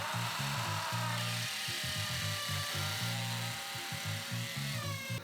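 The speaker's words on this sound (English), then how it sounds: "This is the cheapest DeWalt corded hammer drill that I could find." A cheap DeWalt corded hammer drill bores into material in a home wood shop, its loud motor whine steady throughout while the bit chatters in rapid, uneven hammering bursts.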